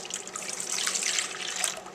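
Milk, a cup and a half, poured into a bowl for crêpe batter, a steady close liquid stream splashing for about two seconds with no talk.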